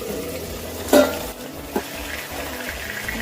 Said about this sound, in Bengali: মাছগুলো আমি বেশি কড়া করে ভাজবো না